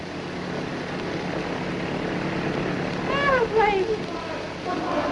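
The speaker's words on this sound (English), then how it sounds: "Airplane!" A propeller airplane drones overhead in an old 1930 adventure drama, a steady loud rumble that swells near the end while voices cry out over it.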